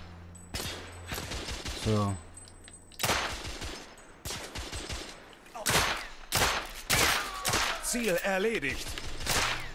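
Rapid bursts of video game gunfire in The Order 1886, with sharp repeated shots and volleys spread across the scene, interrupted by short pauses and mixed with spoken lines in German.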